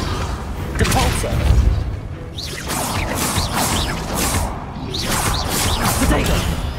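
The Depulso spell is cast amid combat in the game Hogwarts Legacy, with repeated whooshing blasts and thumping impacts layered over busy battle noise while a voice shouts throughout.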